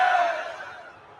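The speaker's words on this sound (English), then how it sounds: "You're booing because The Rock was a little late." A large WWE arena crowd booing The Rock, a loud sustained roar of many voices that gradually fades over about a second.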